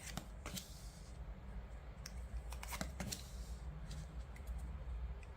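Soft, close riffling and snapping of tarot-style fortune-telling cards being shuffled and laid out in short bursts, quiet and without speech.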